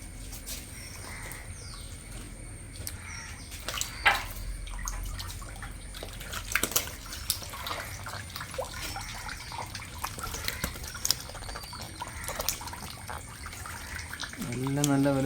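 Water is poured into a catfish tank in a steady, low splashing stream that stays fairly faint throughout, with some outdoor background noise around it.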